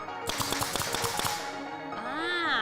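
A rapid series of sharp mechanical shots from a repaired Redking T-Series II nail gun firing in quick succession, followed by a rising whine and whistling tones.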